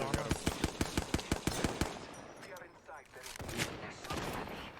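Rapid automatic gunfire in the video game Apex Legends, a fast burst of about a dozen sharp shots over two seconds followed by scattered game sounds and reverberant tail, with players' voices faintly underneath.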